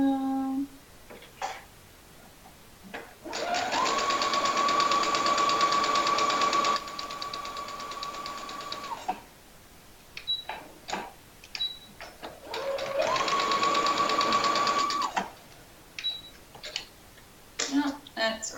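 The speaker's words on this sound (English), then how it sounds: "Back stitching on dart is always tricky." A sewing machine back stitching a dart on a Pakko sweater runs in two sustained bursts of several seconds each, separated by a pause with small clicks and handling noises.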